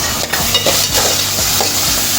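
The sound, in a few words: onion, garlic, green chili and tomato frying in a pan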